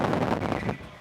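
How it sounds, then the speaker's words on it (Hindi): Strong wind buffets the microphone in a loud, continuous roar with gusty surges, rough and unbroken for the full second. "यहाँ पे मुझे मतलब बहुत ही ज़्यादा हवा चल रही है"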